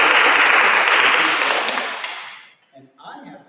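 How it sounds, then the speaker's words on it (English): A round of applause from an audience at a kindness and positivity event, loud and dense clapping that fades out over about two seconds before a voice begins speaking. "big round of applause for Will."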